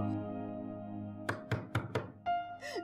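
Four sharp knocks on a door in a dramatic scene, a quick loud cluster following a low sustained hum, then a brief tonal sound and a sliding chime.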